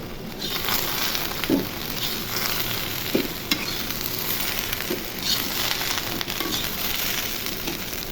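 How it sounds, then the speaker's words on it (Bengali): Okra sizzles in hot oil in a pan, a steady bright frying hiss with occasional soft stirring clicks, close and constant throughout. "পাঁচ মিনিটের মতো ভেজে নিব। ভেন্ডি ভাজা হয়ে গেছে"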